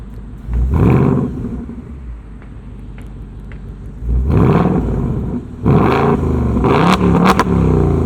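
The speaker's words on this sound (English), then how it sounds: "You can rev the car" A 2024 Ford Mustang Dark Horse's engine revs in several sharp bursts from standstill, each roar climbing then falling back to a burbling idle, loud and close.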